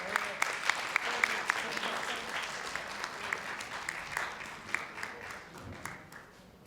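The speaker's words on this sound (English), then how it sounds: "Let's give them a round of applause." Moderate audience applause at a commission meeting, steady crowd clapping with distinct individual claps standing out near the listener, continuing evenly before tapering off.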